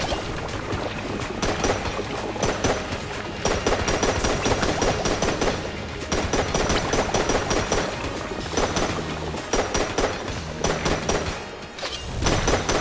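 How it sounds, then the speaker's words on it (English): Rapid bursts of small blobby gunshots in the video game Enter the Gungeon, firing in dense repeated volleys over a busy game soundtrack, loud and continuous with brief pauses. "just shooting little blobby shots"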